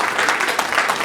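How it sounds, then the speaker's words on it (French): Applause fills the room at a 60th birthday party in Montréal, a dense, steady clapping from a large crowd that carries on loudly throughout without a break. "Merci, on applaudit très fort."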